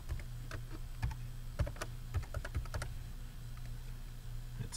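Quiet, close-up key clicks from a computer keyboard as a password is typed, an irregular patter of light taps over a low steady hum, with no talking.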